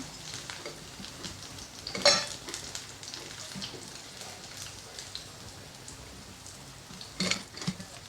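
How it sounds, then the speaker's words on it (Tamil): Raw plantain slices fry in oil with a quiet, steady crackle, broken by a couple of brief louder clatters near the start and end, with no talking. "இப்போ வாழைக்காய் நல்லா ஃப்ரை ஆகிடுச்சு."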